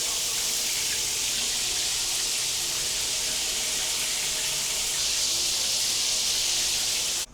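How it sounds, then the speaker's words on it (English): Water from a rain shower head sprays steadily in a tub surround fitted with tile-look wall panels, a loud, even hiss that runs unbroken and cuts off abruptly at the very end. "Just a rain shower head, which is way better than just the handheld for sure."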